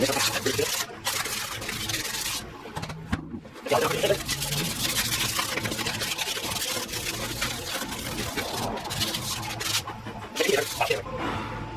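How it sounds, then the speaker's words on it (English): Hand sanding of a Ford F-150 truck wheel before painting, a steady broadband scratchy rasp of abrasive on metal running nearly continuously with brief pauses, close and fairly loud. "We gotta sand this thing down."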